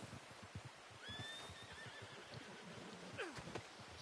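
A horse in the video game Red Dead Redemption 2 whinnies twice over soft clip-clopping hooves, the calls shrill and fairly close against a low, steady background.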